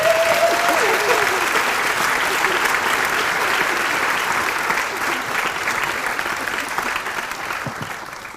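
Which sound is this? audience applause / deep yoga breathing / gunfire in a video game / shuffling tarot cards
audience applause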